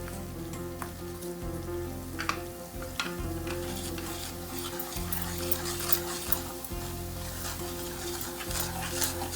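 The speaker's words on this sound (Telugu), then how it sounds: "ఆయిల్ హీట్ అవ్వగానే ఫస్ట్ మనం కారం వేసుకుందాం" Chili powder fries in hot oil for an aloo dum curry, making a continuous close sizzle with irregular crackles and stirring scrapes throughout.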